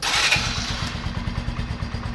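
A Bajaj Platina 100cc motorcycle engine running close by, settling into a steady low, rapid thumping idle after a brief louder burst at the start.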